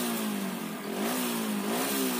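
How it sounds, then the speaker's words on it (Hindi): A Hero Splendor Plus motorcycle with a misfiring spark fault runs steadily for a couple of seconds, its engine note rising slightly in pitch as the throttle is blipped, close and alone without talk. "तो अब देखते हैं बाइक को स्टार्ट करते हैं। तो बाइक तो स्टार्ट हो गई"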